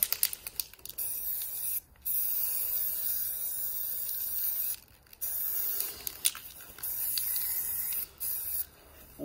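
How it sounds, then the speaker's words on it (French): An aerosol spray paint can hisses outdoors in several bursts of a few seconds each, separated by short pauses, fairly close and with no voices. "J'ai pas l'habitude de peindre dans ces conditions. Déjà à la bombe c'est pas mon truc."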